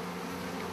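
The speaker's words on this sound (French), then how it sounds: "quand on voit un nuage d'abeilles qui se déplace, c'est un essaim d'abeilles" A cloud of honey bees swarming, their buzzing a steady, dense drone held at even loudness through the short moment with no voices over it.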